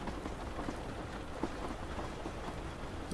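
Steady, soft rain falls continuously as a train carries on through a highland landscape, an even wash of drops with no pauses or voices.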